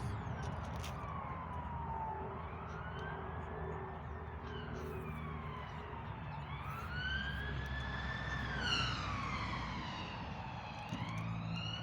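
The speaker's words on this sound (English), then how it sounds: "You hear them sirens, you hear all that?" Police sirens wail in the distance, rising and falling in long sweeping tones that overlap, with steady traffic rumble underneath.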